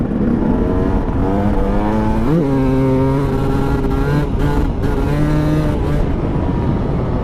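A Husqvarna TE300 two-stroke dirt bike engine revs hard in fourth gear, a loud, close, buzzing drone whose pitch climbs and dips as the throttle rises and eases off through the whole stretch.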